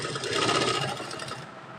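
Sewing machine stitching fabric along both sides of a baby girl's top, a steady, close whirring run that eases slightly toward the end, with no talk.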